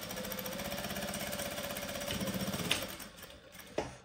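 A Jack F5 direct drive industrial lockstitch sewing machine runs through material with a loud, fast, rhythmic mechanical chatter. The stitching slows and stops partway through, then a sharp clunk follows in the quieter remainder.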